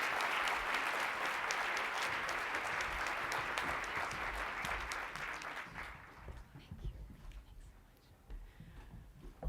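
Warm audience applause at a women's business luncheon welcoming Premier Wynne, loud and dense for about six seconds before thinning out to scattered claps and fading.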